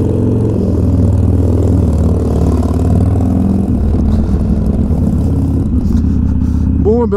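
A heavily modified Harley-Davidson 1200XR motorcycle engine rumbles steadily and low throughout, a constant near throb that shifts slightly in character partway through.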